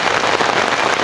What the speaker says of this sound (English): Can you hear the rain? It's on my tarp.